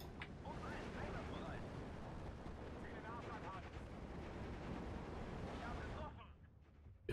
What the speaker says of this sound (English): Good bombing strike.